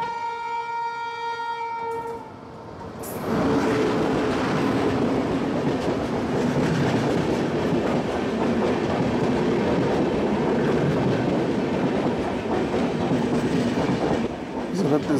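A Duronto Express train overtaking at Mathura Junction, a steady, loud roar of passing rail cars with rhythmic wheel clatter that lasts throughout after a short horn-like tone at the start.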